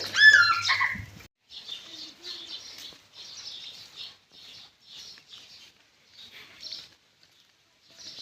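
A flock of about fifty sparrows at a small farm garden chirps in short, repeated bursts of bright twittering, moderately quiet and fairly close, after a brief louder rustle at the start.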